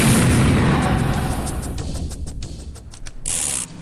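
Rapid gunfire erupting in a Korean action film shootout, a dense burst of sharp cracks and booms that thins into a string of distinct loud shots.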